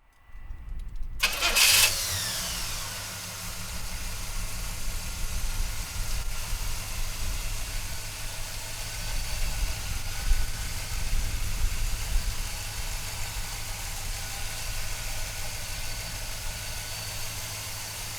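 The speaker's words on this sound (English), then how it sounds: "So come on up and we'll fire this GTO up." A 1968 Pontiac GTO convertible cranks briefly and fires up, then settles into a loud, rumbling V8 idle that holds steady with slight surges for many seconds, close to the car with no talking.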